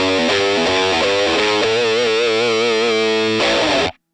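Electric guitar through a HeadRush pedalboard with a gritty overdrive tone plays a sustained chord phrase, bending and ringing out loudly before cutting off abruptly at the end.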